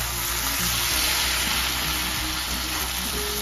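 Chicken and mutton masala roasts in a pan with a steady, even sizzle that stays constant throughout, close and unbroken, with nobody speaking.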